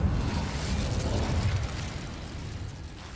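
A fire spell cast in Hogwarts Legacy erupts as a loud, rumbling burst with crackling pops, then fades slightly into a sustained fiery roar for a few seconds.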